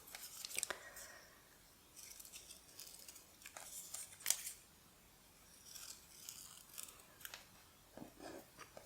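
Scissors snip through stamped paper scraps at a craft table, with sharp close cuts that come in irregular clusters over quiet, faint background rustling.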